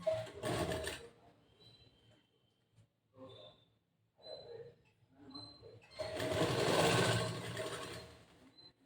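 A sewing machine stitches blouse fabric along a half-inch seam for a boat-neck blouse, a short burst at the start and a longer run near the end, with a person talking quietly in between.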